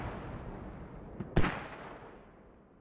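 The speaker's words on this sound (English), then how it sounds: "The mortars hit 4-5 players right there, but no kills." Mortar shell impacts in the Squad video game, one faint thud followed moments later by a sharp loud blast whose rumble decays over about a second.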